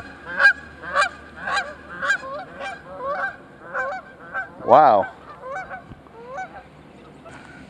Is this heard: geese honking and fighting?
yes